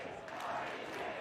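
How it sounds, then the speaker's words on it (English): Indoor crowd at a 2022 FIRST in Michigan robotics state championship cheering and celebrating, a steady broad roar of many voices lasting the whole moment with no pauses. "There's the celebration as this crowd here inside finds out."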